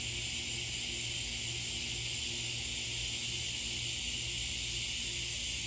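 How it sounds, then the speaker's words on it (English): A continuous, high-pitched droning buzz of cicadas fills the air, unbroken and loud throughout. "And the noise you hear are the locust. Sometimes you call them cicada."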